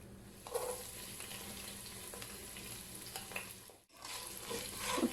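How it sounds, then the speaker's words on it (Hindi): Finely chopped onions fry in oil with whole garam masala, making a continuous sizzle. Stirring noises rise and fall through it, and the sound drops out briefly before returning louder. "प्याज को ब्राउन कर लूँगी।"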